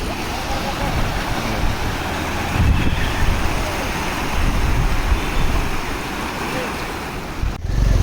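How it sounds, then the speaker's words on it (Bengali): Ganges floodwater pouring across a submerged road by a culvert in Kaliachak-3, Malda: a constant loud rushing wash of water mixed with wind buffeting the microphone, steady throughout with no pause. "সাইড দিয়ে জল বেরোচ্ছে এটা পোস্ট পাড়া কালভেট পুরো রাস্তা ডুবে গেছে রাস্তার মধ্যে দিয়ে পুরো জল"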